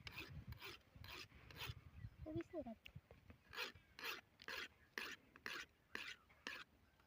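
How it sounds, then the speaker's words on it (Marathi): A sickle blade is sharpened by hand during farm work, giving a close, quiet run of rapid rasping strokes in a steady rhythm, with a brief murmured voice partway through. "असं विळा घासतो आम्ही."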